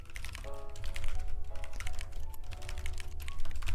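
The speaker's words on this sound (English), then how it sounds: "I like the sound of the typing" Steady rapid typing on a computer keyboard during game-engine programming in TypeScript, a continuous patter of close, crisp keystrokes over a low background hum with faint tonal sounds.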